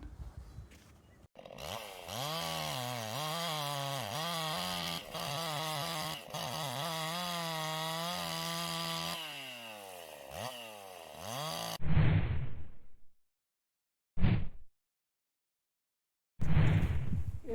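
A YardWorks 25-ton gas log splitter engine runs loud and close with a wavering, rising and falling drone, then cuts off, followed by short bursts of hissing noise separated by silence.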